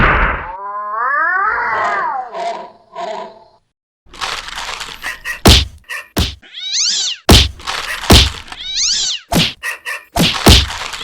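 A cartoon cat yowls and meows in long wavering cries, interspersed with sharp thuds and whacks as it attacks, loud and close, with a brief silent gap before a flurry of hits and caterwauls.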